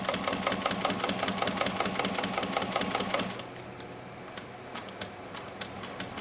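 A sewing machine runs a fast, steady stitching burst along a tote bag seam for about three seconds, then stops, leaving quiet room tone broken by a few light clicks and taps.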